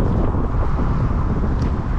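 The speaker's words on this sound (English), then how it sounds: "it's kind of windy and cold too" Strong wind buffets the microphone in a constant rough roar on a cold Macau street, with no one speaking.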